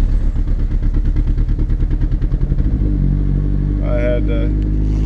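A Chevy Colorado with reduced engine power climbing a hill in third gear at about 20 mph, giving a labored, pulsing engine drone that settles into a steadier hum, with someone talking over it.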